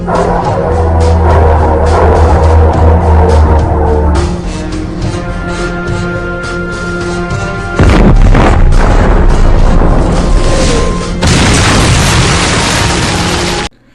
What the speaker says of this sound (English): that clip you just saw was the glorious cannons of the HMS Goliath